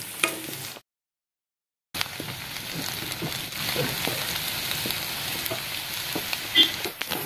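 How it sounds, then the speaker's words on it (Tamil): Garlic frying in oil in a pan gives a steady, soft sizzle with faint crackles throughout, after a brief silent gap near the start. "பூடு பார்த்தீங்கன்னா நல்லா சவக்குற அளவுக்கு நல்லா வறுத்துடுங்க."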